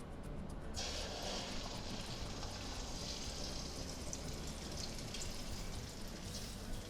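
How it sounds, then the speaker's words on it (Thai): Beaten eggs fry in moderately hot oil in a pan, giving a dense, even crackling hiss that stays steady throughout. "จากนั้นใส่ไข่ลงไปเลย"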